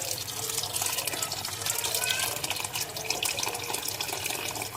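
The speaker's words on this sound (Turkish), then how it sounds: "Evet arkadaşlar sıcak suyunu ilave ediyoruz." Hot water pours steadily into a pot of meat and dried white bean stew, a continuous close splashing and rushing that holds at an even level throughout.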